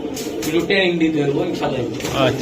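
Young Giribaz high-flyer racing pigeons coo in a loft, soft repeated coos close by while someone talks over them.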